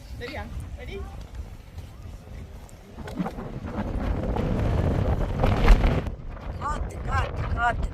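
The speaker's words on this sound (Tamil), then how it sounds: "சத்தம் கேட்குதா காத்துன்ற சத்தம்." Strong gusting wind buffets the microphone on the Titlis mountain above Engelberg, Switzerland, a steady roaring rumble that swells louder toward the end, with voices talking briefly at the start and end.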